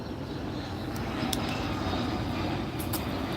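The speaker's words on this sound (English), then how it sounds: "there's a jet flying over our sky right now that's military" A military jet passing overhead, a faint, steady distant roar of aircraft engine noise spread evenly across the clip with no speech.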